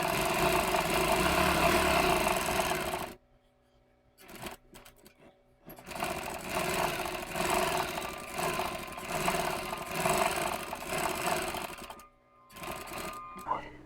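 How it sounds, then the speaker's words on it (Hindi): An electric sewing machine stitching the edge of a net blouse: a close, steady whirring run of rapid stitches, a pause with soft handling clicks, then another long run and a short final burst. "अब इस पर हम किनार की सिलाई लगा लेंगे"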